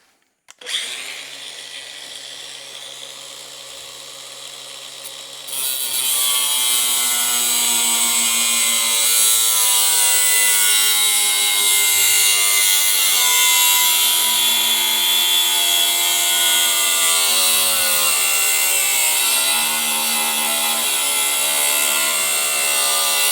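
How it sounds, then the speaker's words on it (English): Power drill boring 8mm holes into metal for plug welds on a 1927 BSA wedge tank motorcycle's rear stand, a loud steady whine that starts abruptly, then steps up and keeps grinding continuously with no talking. "So I'm going to drill like 8mm holes and give it a really, really solid plug weld."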